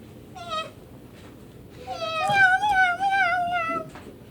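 A newly adopted house cat meows while being held, giving one short mew followed by a longer, drawn-out wavering meow, close and fairly clear over a low background hum.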